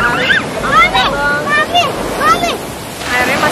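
Ocean waves washing onto a beach in the morning at Anyer, with steady surf and wind noise, while voices and high calls sound over the water.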